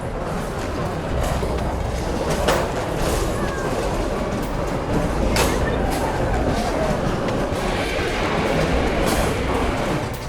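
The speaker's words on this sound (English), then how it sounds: "Coming on down here to see the Zephyr cross the tracks up here." Zephyr miniature train at Dorney Park amusement park crossing the tracks near the Iron Menace roller coaster, a steady rumbling roll with faint clicking wheels and occasional squeals, mixed with park crowd noise and some voices.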